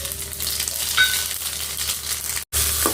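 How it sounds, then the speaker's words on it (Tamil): Mustard seeds and urad dal fry in hot sesame oil, giving a steady close sizzle with faint crackles and a brief cut near the end, no talking. "இப்போ இதில் கடுகு உளுத்தம்பருப்பு போட்டுக்கலாம்."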